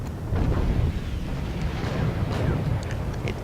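Missile impact on an Abrams tank in a tank battle video game, a dense rumbling explosion that rolls on for several seconds, loud and continuous.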